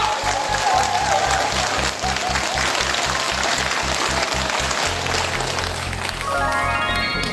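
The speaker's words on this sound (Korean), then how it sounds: "우리 열정적으로 명강의를 해주신 우리 센터장님한테 큰 박수 한번 부탁드립니다" An audience gives sustained applause for a lecture at a community center in Korea, with dense clapping continuing throughout at an even level, mixed with a rhythmic low thumping beat and some faint crowd noise.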